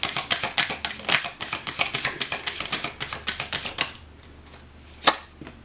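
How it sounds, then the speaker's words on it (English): Tarot cards are riffled and shuffled in a quick, rhythmic run of crisp flutters, then go quiet, with one last sharp snap near the end. "Before I just compulsively keep shuffling, there we go."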